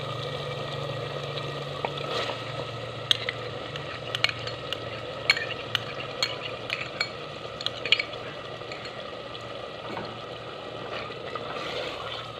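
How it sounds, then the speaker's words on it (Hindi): Chicken cubes and yogurt fry in a pan with a steady background sizzle, while a spoon stirs through them and clinks sharply against the metal at intervals. "इसे 2 से 4 मिनट के लिए भून लेना और फिर कवर कर देंगे"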